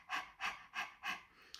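A person imitates a panting dog as a diaphragmatic breathing exercise for singing, four quick, even, breathy puffs close to the microphone, alone in a quiet room.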